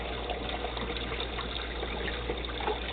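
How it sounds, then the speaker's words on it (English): Water pours and gushes steadily into a container to soak salty homemade bacon before smoking, a dense continuous rush heard alone without talk. "we're going to soak these before we smoke them and before we let them dry"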